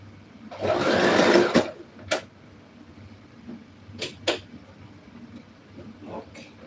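A home sewing machine stitching a zigzag seam on a pleated dress runs in one close, loud burst of about a second, followed by a few sharp clicks and knocks in a quiet room.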